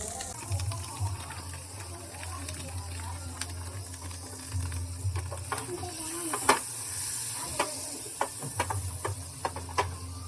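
Butter sizzles in a frying pan at a street-style egg chicken fried rice stall, with a constant close crackle and scattered sharp ticks and scrapes from stirring.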